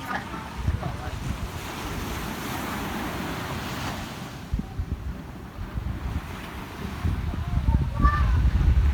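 Ocean waves wash onto a beach at Patenggangan, Air Tawar Barat, a continuous rushing surf with wind buffeting the microphone and a swell building near the end.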